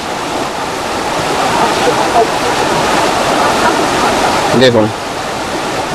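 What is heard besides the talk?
rushing water of Devkund waterfall in monsoon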